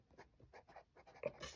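A Jinhao 992 fountain pen with a fine nib scratching across paper, several short close strokes in quick succession, soft and dry, with no voices.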